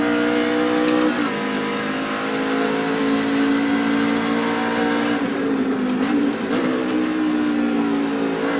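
A NASCAR stock car in the iRacing simulator at Watkins Glen holds a loud, sustained engine drone with a quick double downshift that drops and rises in pitch, steady and close with no talk.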